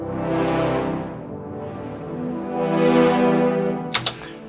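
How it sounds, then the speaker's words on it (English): Orchestral brass produced in FL Studio swells in a sustained crescendo, building in waves to a loud peak near the end, where a few sharp bright clicks cut in. The brass plays alone without any talking. "if you don't know what a crescendo is let me just quickly play it for you"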